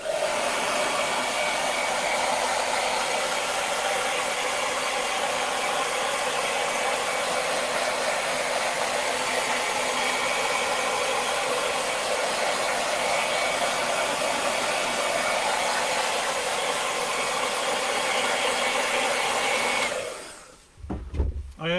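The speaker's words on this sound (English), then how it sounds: "So I need to use the hairdryer." A hairdryer blows steadily and loudly for about twenty seconds, warming fresh airbrushed paint on a 1/10 scale RC car body shell, then cuts off abruptly with a brief thump at the end.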